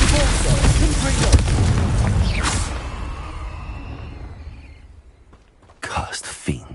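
Confringo spell blasts in the video game Hogwarts Legacy, a loud explosive burst with whooshing that decays into a fading rumble, then a fresh sharp impact near the end.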